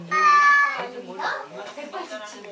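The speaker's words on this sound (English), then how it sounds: "It's a cat." A single drawn-out, high meow rings out clearly at first, followed by people talking nearby.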